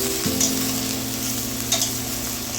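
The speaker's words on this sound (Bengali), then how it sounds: "রসুন বাটা, জিরে বাটা আর দিয়েছি ধনে বাটা। এবার সব মশলাগুলি ভালো করে কষাতে থাকবে।" Garlic, cumin and coriander paste sizzles and fries in a pan for chicken curry, with a steady hiss and a few scraping stirs, close and moderately loud with no voices.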